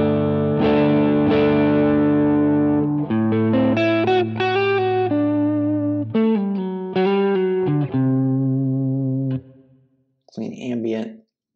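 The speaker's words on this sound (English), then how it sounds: "We've got a tremolo, we've got a stereo tape delay, and then a modulated reverb on the end." Clean electric guitar chords through a Quad Cortex preset ring out with pulsing tremolo, echoing stereo tape delay repeats and a wide, shimmering modulated reverb tail, ending in a final swelling strum.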